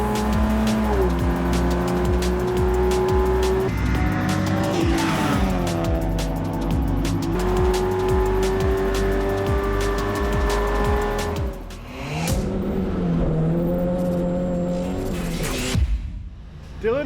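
An Audi TT TFSI driven hard, its engine revving up and down through gear changes with tire squeal and loud, close, continuous roaring throughout.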